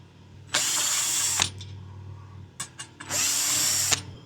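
A power drill spins off bolts on a Toyota RAV4 roof during a roof rack cross bar installation, with two loud, close bursts of about a second each separated by brief ratcheting clicks.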